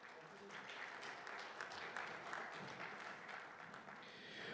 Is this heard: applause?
yes